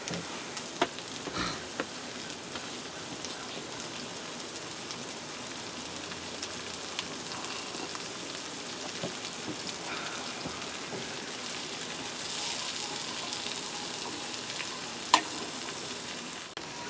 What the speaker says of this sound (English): I'm going to throw my steak right there in a few minutes once my onions gets going a bit.